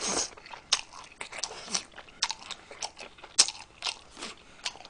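Close, crisp bites and crunchy chewing of boiled pork bossam in an eating broadcast, irregular mouth sounds repeating throughout with no talk.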